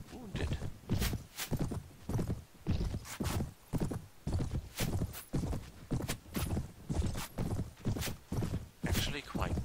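Horse hooves clip-clop in a steady galloping rhythm, close and loud, from a wounded horse in the Prophesy of Pendor mod for the video game Mount & Blade, with a faint whinny.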